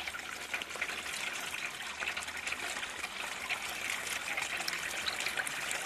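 Patchouli oil trickling steadily out of a traditional distillation still, a continuous soft liquid dribble with a bright hiss, steady and close throughout with no pauses.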